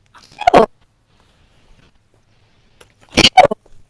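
Two short, sharp sneezes, one early and one near the end, with near silence between them.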